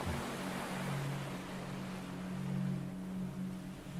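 Soft ocean waves behind a relaxation meditation, a faint, steady wash of surf under a low sustained drone, with no distinct breakers and no speech.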